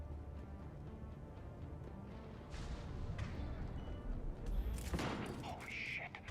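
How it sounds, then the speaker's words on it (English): Bursts of rapid gunfire crackle in a Mass Effect 3 Legendary Edition game scene, building to a louder volley near the end, with a voice speaking briefly over the noise. "Gunfire?"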